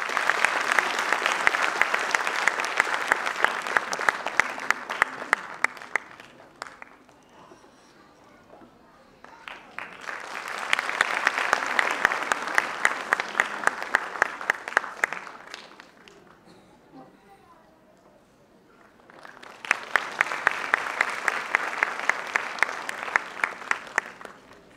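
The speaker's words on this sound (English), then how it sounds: "Dear parents, let us put our hands together and welcome them." Parents applaud at a school event at Auxilium Convent, Pali Hill, Bandra, in three long sustained bursts of crowd clapping separated by quieter pauses.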